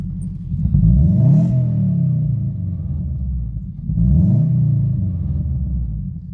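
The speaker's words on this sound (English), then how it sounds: "I figured I'd get a exhaust clip for you" A car engine revs twice through a newly installed 3-inch exhaust pipe, each loud deep rumbling rise swelling and falling back to a throaty idle, heard up close with no speech.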